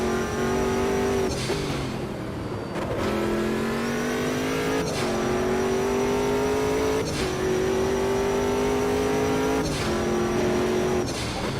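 Diesel race car in Automobilista 2, its engine droning steadily with repeated gear shifts, each rising pitch dropping back sharply, loud and continuous with no speech.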